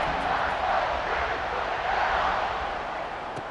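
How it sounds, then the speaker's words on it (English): A home crowd at an Ohio State football game against Northwestern roars in a steady, sustained wash of cheering and noise, with no clear breaks. "it just feels like they're really feeding off of this home crowd and their energy"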